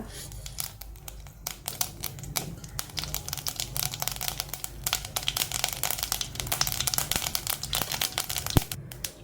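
Dense, rapid crackling and popping of mustard seeds spitting in hot oil while tempering for a brinjal curry, continuous and fairly close throughout.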